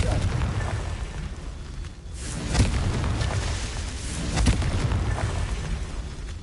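Confringo blast spell in the Hogwarts Legacy video game, two booming explosive bursts a couple of seconds apart over a rumbling backdrop, loud and close.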